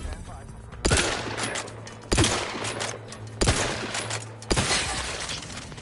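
Gunfire in The Outer Worlds 2 comes as four loud, sharp shots spaced about a second apart, each one ringing out and decaying over a low steady game hum.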